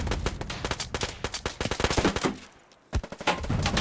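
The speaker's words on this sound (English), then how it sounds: "Rocket launcher goes off" A rocket launcher goes off in a video game amid rapid, close automatic gunfire, with a brief lull before the shooting resumes.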